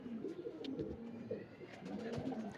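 A pigeon coos close by, soft throaty warbling notes in a couple of short bursts with brief pauses between them.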